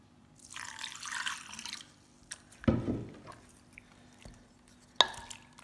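Water is poured over freshly made butter to rinse it: a soft splashing pour, a louder slosh partway through, then scattered drips and a final sharp splash, all close and fairly quiet.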